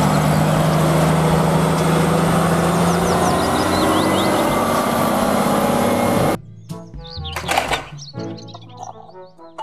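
A cement mixer truck's engine drones with a loud, steady low rumble and faint birdsong above it, then stops abruptly, leaving a few clunks and thumps.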